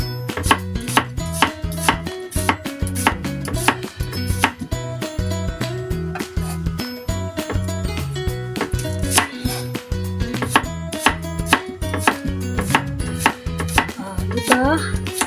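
Onion being chopped on a cutting board for a ginataang gulay dish: a fast, steady run of crisp knife taps, close and loud, with occasional pauses and light clinks of utensils.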